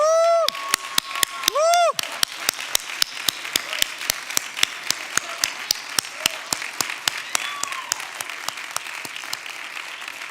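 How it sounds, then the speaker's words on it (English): An audience applauds finalists and semifinalists at the close of a charity challenge finals event, with steady, dense clapping that runs throughout and a few cheers and whoops rising over it near the start. "how about one more round of applause for all of our fabulous finalists and semifinalists"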